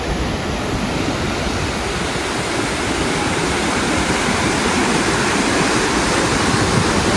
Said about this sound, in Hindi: ये काली गंडकी जो नदी है उसके ऊपर में जो पुल है वहाँ पे हम लोग रुके हैं